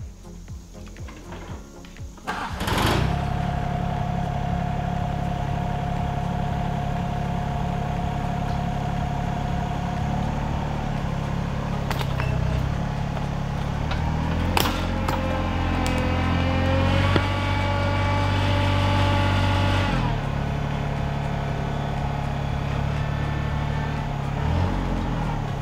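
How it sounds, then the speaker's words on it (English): A tractor pulling a tree stump through a snatch block rigged to an anchor tree; a steady mid-pitched engine drone runs throughout, with a few louder surges and some mechanical clanks. "and then the tractor to pull it."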